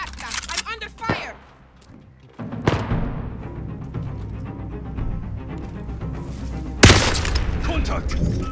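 Gunfire and explosive bursts in Call of Duty Warzone on the Caldera map, a few sharp loud cracks spaced apart amid a rumbling battlefield background, with voices calling out over the action.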